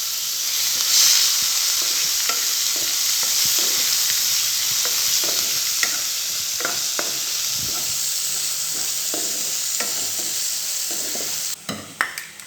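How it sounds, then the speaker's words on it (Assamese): Onions frying in a pan with whole cumin seeds give a loud, steady sizzle with repeated spatula scrapes and stirs throughout, ending with a few sharper knocks near the close. "পিঁয়াজখিনি ফ্ৰাই হৈ আছে।"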